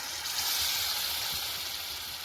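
Water poured into a hot pan of chicken masala on a rustic wood-fired chulha, giving a steady, loud, hissing sizzle that holds evenly throughout without a pause.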